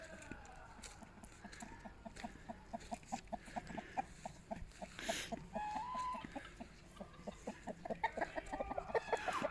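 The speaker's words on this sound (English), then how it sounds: "Big chickens, turkeys," Chickens cluck in quick repeated bursts, a small flock pecking and murmuring at moderate distance with occasional louder squawks.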